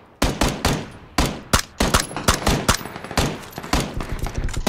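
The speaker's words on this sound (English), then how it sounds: "They're shooting at me." Rapid PUBG gunfire from several weapons, sharp close shots in irregular bursts and volleys crackling one after another with little pause, loud and dense throughout.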